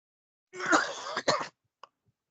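A person coughs in a short burst, a rough throaty cough followed by a brief, fainter catch, in an otherwise quiet room.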